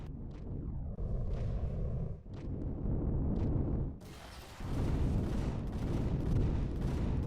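Heavy spaceship weapons firing in the space game Empyrion Galactic Survival, loud booming blasts and rumbling roars that overlap continuously, with a brief lull before another sustained barrage.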